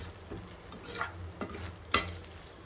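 A spoon stirs beetroot halwa mixture in a pan, giving soft scraping and sliding with a few sharper clinks against the metal, close and fairly quiet, with no voices.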